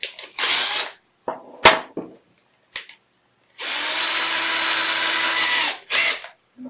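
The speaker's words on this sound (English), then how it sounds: "drill the holes for your line ties, for your front line tie" A power drill bores line-tie holes into a handmade PVC swimbait, several short whirring bursts followed by one long steady run of about two seconds, loud and close, with brief clicks between.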